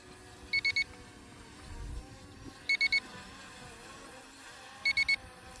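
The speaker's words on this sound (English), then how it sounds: "And it's beeping and beeping and beeping, and it won't come down." A HYTOBP P17 drone hovering in place emits three evenly spaced bursts of triple high-pitched beeps over a faint rotor hum and background noise.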